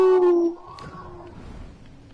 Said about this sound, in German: ich habe einen Hund gehört, der hat gejault